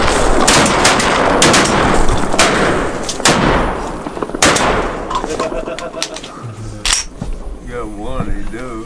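Several shotgun blasts ring out during a diver duck hunt on Chesapeake Bay, loud, sharp reports fired in quick succession over wind and open water, with hunters talking and shouting between shots.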